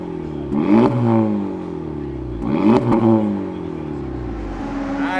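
A 2024 Acura Integra Type S engine revs twice in strong rising and falling sweeps, close and loud, settling to a steady idle between and after.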